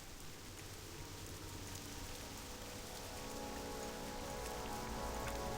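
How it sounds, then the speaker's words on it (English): Steady rain falls in the World of Warcraft game world, a dense even hiss of drops on surfaces that grows slightly heavier toward the end, with no voices. "Starting to rain."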